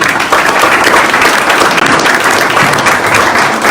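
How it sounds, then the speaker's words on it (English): Loud, dense round of applause from an audience at a fintech accelerator event, steady throughout with no pause. "Let's give him a round of applause."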